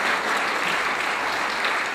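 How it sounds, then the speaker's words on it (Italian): A dense, steady wash of applause from a large audience at a show fills two seconds with continuous clapping and no talk over it. "vorrei un grande applauso, ma un applauso anche per i vostri figli"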